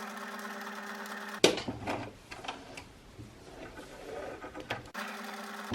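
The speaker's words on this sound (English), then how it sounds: "So I've reduced the stitch width and I'm just guiding the stitch." Sewing machine stitching fabric for reverse appliqué at reduced stitch width, a close, steady mechanical whir for a few seconds between stretches of quiet hum.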